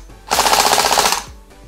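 An RX AK102 airsoft rifle, running on an 11-volt battery, fires a single burst on full auto. The rapid, even stream of shots is loud and close and lasts about a second, then stops abruptly.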